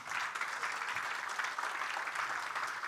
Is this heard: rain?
no